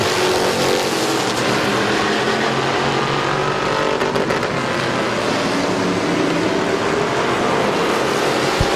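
Race cars at Midvale Speedway roar continuously around the oval, a loud sustained engine drone with no break, and no voices.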